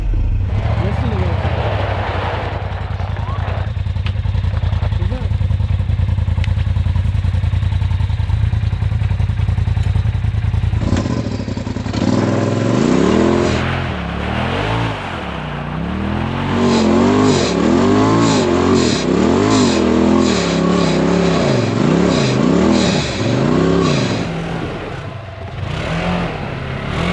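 A side-by-side UTV engine with studded tires roars and revs repeatedly on ice while trying to pull another vehicle out, rising and falling in loud surges, with talk mixed in.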